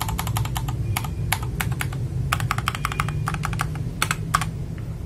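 Typing on an FL Esports MK870 mechanical keyboard with Tiger switches and XDA keycaps: rapid bursts of crisp, deep keystrokes in uneven clusters, close and clear with no talking.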